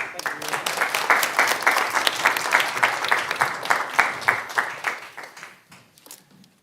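Sustained applause from the audience at a university pitch competition final round, many hands clapping in a dense, rhythmic patter that peaks and then fades out near the end.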